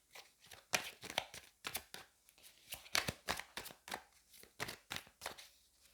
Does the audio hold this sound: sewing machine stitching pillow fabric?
no